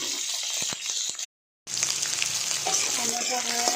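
Wild hog plums drop into hot oil with mustard seeds and dried red chili, giving a loud, crackling sizzle that cuts out briefly, then returns fuller and busier.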